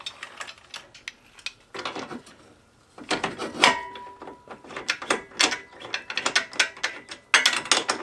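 A socket ratchet tightens bolts on the front bumper of a CF Moto 800 XC Touring ATV, giving close, rapid clicking strokes in irregular runs with short pauses between them.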